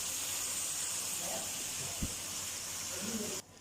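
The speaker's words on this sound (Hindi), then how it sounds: "यहाँ 1 से 2 मिनट के लिए हम मसाले के साथ भूनेंगे।" Okra and fried potatoes roast with masala in a pan, giving a faint, steady sizzling hiss with a single soft knock partway through, cutting off abruptly near the end.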